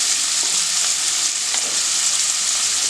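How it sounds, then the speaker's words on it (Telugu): Thinly sliced onions, about a cup, frying steadily in a pan while a spoon stirs them now and then, a constant close sizzle with faint scraping taps on top; no talking. "ఉల్లిపాయలు మనం గోల్డెన్ బ్రౌన్ అయ్యే వరకు కుక్ చేసుకోవాలండి, కలుపుతూ"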